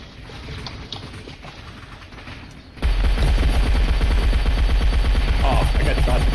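Rapid video game gunfire erupts abruptly after a quieter stretch, then continues loud and dense as sustained automatic bursts with scattered shots for several seconds.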